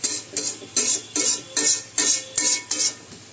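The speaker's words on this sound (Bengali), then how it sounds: "এবার চুলার আঁচটি সামান্য বাড়িয়ে দিয়ে জল সম্পূর্ণ শুকিয়ে যাওয়া পর্যন্ত আমি নাড়াচাড়া করে রান্না করতে থাকব।" Spinach cooking in a pan, stirred over raised heat until the water dries: about eight rhythmic scraping strokes of a utensil against the pan over a soft sizzle, close and steady.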